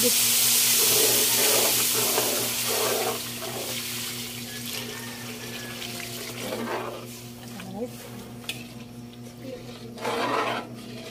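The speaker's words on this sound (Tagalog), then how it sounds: "Nalagyan na po natin ng tubig." Water runs and splashes steadily into a pan over a constant low hum, with someone speaking intermittently over it.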